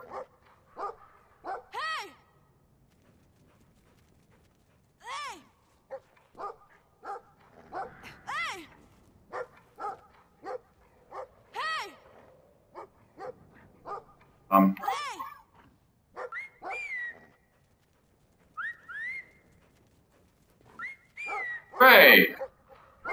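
Dog barks from the video game Brothers: A Tale of Two Sons, a series of short, sharp yaps and woofs in separate bursts, fairly loud and close, mixed with game music and sound effects, with occasional whimpers and a whistle-like cry.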